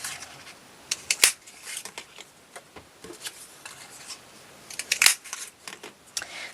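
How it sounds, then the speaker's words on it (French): Paper circles cut out of pink, blue and yellow paper for a craft project, giving a few short, crisp snipping bursts near the start and again later, with soft rustling and handling of paper in between, close and fairly quiet, with no talking. "Donc je vais couper un cercle"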